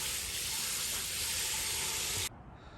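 Steady hiss of shower water running from a Thermomate 1.32 GPM portable propane tankless water heater, loud and even for about two seconds before cutting off abruptly.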